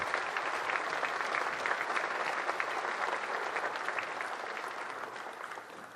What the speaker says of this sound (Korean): 대통령님께 다시 한번 큰 박수 보내주시기 바랍니다.